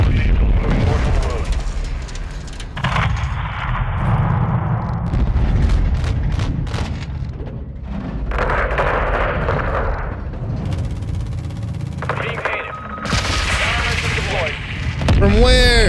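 Modern Warfare 2 campaign on PS5: AC-130 gunship fire delivers heavy booming explosions and rumbling artillery blasts, loud and continuous, with game voices and radio chatter mixed in.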